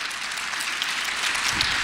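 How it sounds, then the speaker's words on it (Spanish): Church congregation at a Catholic healing service breaks into sustained applause, a broad, even wash of clapping with a louder burst right at the end. "Fuerte la aplauso"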